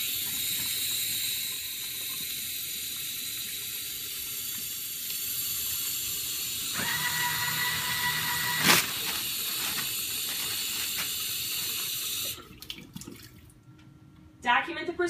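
Tap water runs steadily for hand washing in a hospital setting, a continuous hissing flow that stays loud and even before briefly cutting off and sputtering near the end, with no voices over it.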